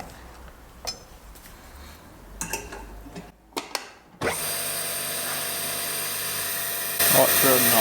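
A Wadkin LK drill press with an old pocket hole bit bores into wood; after some quiet handling clicks and knocks, the machine starts into a loud, steady whine that runs on unbroken and rises slightly near the end.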